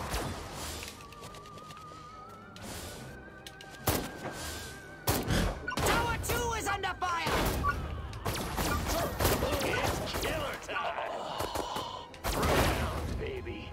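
Gunfire and impacts during an attack on Tower Two in the Destroy All Humans remake, scattered loud shots and thuds mixed with game noise and voices.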